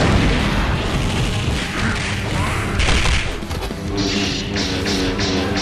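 Gunfire and explosions from an animated action sequence, a loud, continuous burst of shots, crashes and booming impacts with sharp hits toward the end.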